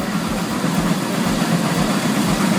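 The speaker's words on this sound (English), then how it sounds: "The Case 110 HP is the most powerful steam tractor ever made in the US" A Case 110 HP steam tractor, among the most powerful steam tractors built in the US, runs steadily with a deep continuous rumble and a regular low chuffing beat close by; no voices.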